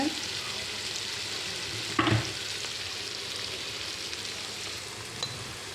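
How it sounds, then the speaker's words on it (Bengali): Beef curry stirred inside a rice cooker, a steady soft sizzling hiss with scraping spoon movements and one sharper clack near the start, close and continuous with no talking. "যদি না নাড়ি তাহলে নিচে হয়তো লেগে যেতে পারে, একটু নেড়ে চেড়ে দিব।"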